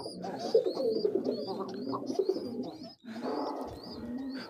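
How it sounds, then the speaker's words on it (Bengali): Racing pigeons, a paired couple, coo in soft repeated murmurs close by, with faint higher chirps from other birds in the background and a brief pause before the cooing resumes. "এই যে এরা দুজন একটা জোড়া, খুবই সুন্দর কবুতর।"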